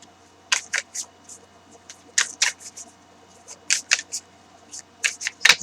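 A card drawn from a shuffled Morgan-Greer tarot deck, with crisp, close card slides and flicks arriving in short separate bursts against a quiet room background.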